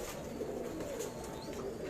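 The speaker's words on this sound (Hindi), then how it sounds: "ये डब वाली कबूतरी माशाल्लाह माशाल्लाह माशाल्लाह" Soft cooing from a hen pigeon in a Karachi high-flyer loft, a low throaty murmur running continuously for a couple of seconds against steady background noise.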